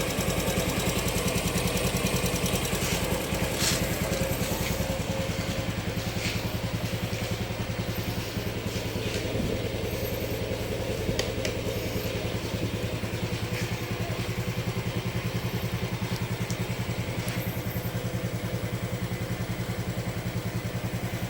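A 2026 Honda Dream motorcycle engine idles steadily and close by, a continuous low mechanical hum with light ticking clatter that runs unbroken for the whole stretch, with no talking over it.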